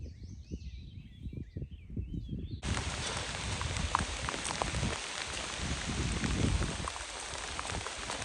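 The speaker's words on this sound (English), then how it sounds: "then it started downpouring rain" Heavy rain pours down on the Appalachian Trail, a dense, steady hiss of drops that starts suddenly a few seconds in and then stays loud and constant, with scattered close patters and some birdsong earlier on.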